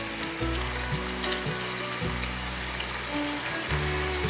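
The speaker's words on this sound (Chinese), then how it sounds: "油冒小泡泡后，可以把豆腐放进来炸了" Cornstarch-coated tofu frying in a pot of hot oil, a steady bubbling sizzle with faint clinks and light stirring noises, no talking.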